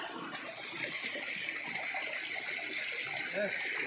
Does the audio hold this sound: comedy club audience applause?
no